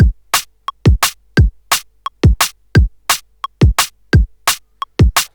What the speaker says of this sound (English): So we've got our kick and snare in place, and if you want to, you can quantize them.